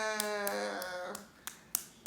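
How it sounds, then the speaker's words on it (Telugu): Children clap their hands in a few sharp, separate claps, about five spaced hits, quiet and close, following a brief held voiced tone at the start. "clap clap clap clap clap చేయండి అందరూ"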